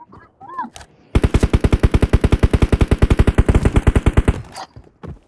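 Sustained automatic gunfire in the shooter game PUBG Mobile, a loud rapid burst of evenly spaced shots lasting over three seconds, with brief speech-like sounds before and a pause after.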